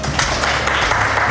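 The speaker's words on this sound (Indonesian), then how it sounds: "tepuk tangan untuk kalian semua" An audience in a school guidance session claps, giving a short burst of dense, fairly loud applause from a room of people, with some voices mixed in.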